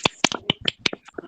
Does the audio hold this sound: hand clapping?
yes